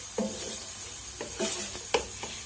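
Masala spices for an arvi curry are stirred and fried in oil in a pot, a soft continuous sizzle broken by several scraping stirs of a spoon, close and moderately quiet, with no talking.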